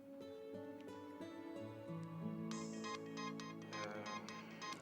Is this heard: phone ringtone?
yes